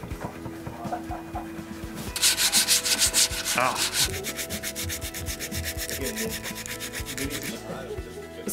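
Rapid back-and-forth sanding strokes rasp against a wooden electric guitar body, close and loud, in a steady repeating rhythm after a quieter start.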